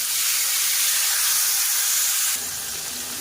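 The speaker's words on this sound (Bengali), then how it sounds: "এবার এখানে দিয়ে দেব বড় সাইজের একটা কুচানো টমেটো" A large chopped tomato hits hot oil spiced with bay leaf, dried chilli, cumin and whole garam masala, giving a loud, dense sizzling hiss that eases slightly after a couple of seconds.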